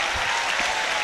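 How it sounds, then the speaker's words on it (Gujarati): Audience clapping for Swamiji at a board exam gathering, a brief steady burst of many hands applauding together with no voices over it. "વાહ સ્વામીજી વાહ, તાળી તો પાડી પડે ને"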